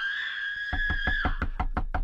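Knocking on a locked bedroom door inside a house: after a faint tone, a run of about nine steady, loud knocks comes close up at an even rhythm.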